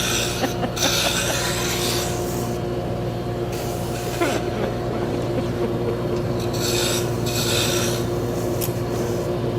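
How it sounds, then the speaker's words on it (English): A Turkish drop spindle is sanded while it turns on a lathe. The lathe motor hums steadily underneath, and the abrasive rasp swells and fades in several bursts. Nobody speaks. "so I'm actually sanding a Turkish drop spindle"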